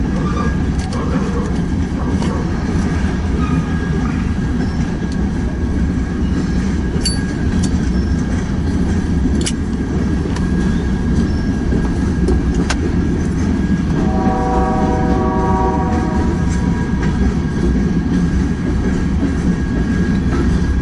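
A loud BNSF freight train rumbles steadily past close by, clattering on the rails, while a horn sounds a sustained chord partway through.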